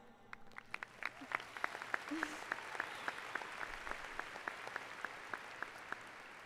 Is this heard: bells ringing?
no